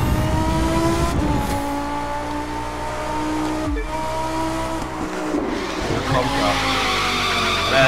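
A Lamborghini drifts in The Crew 2, its engine droning loud and steady while the tires squeal through a long slide. The engine pitch shifts as it goes and the noise swells again near the end.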